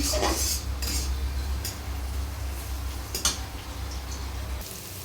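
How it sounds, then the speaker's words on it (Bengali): Bay leaves, cardamom and cinnamon frying in hot oil with onion in a wok give a steady, close sizzle broken by a few light utensil clinks against the pan. No one talks. "এর মধ্যে আমি 2 টুকরো তেজপাতা, এলাচ, দারচিনি এগুলো দিয়ে সুন্দর করে ভেজে নিলাম।"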